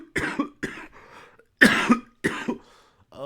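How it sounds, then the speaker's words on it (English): A person coughs several times in a row, harsh close bursts separated by short gaps, with a couple of softer breathy sounds between them. "I'm coughing."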